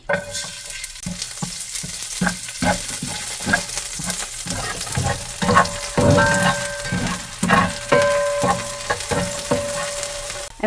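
Oil frying in a pan with food being stirred, a loud steady sizzle broken by repeated scraping strokes of a utensil, close up with no talking.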